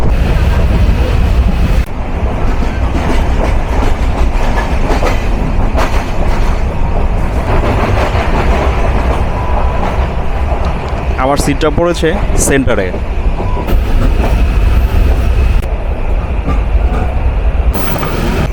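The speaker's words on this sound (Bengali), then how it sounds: "আন্তনগর নীলসাগর এক্সপ্রেস প্রবেশ করছে" Inside the Nilsagar Express intercity train in Bangladesh, a loud steady rumble of the running carriages continues throughout, with a passenger speaking briefly over it and a burst of squealing or whistling noise midway.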